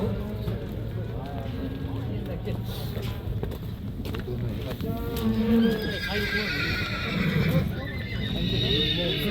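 Horses neigh and whinny at a crowded winter livestock market in Karakol, Issyk-Kul region, Kyrgyzstan, several calls rising over a busy background of hoof clops and voices, with people talking throughout.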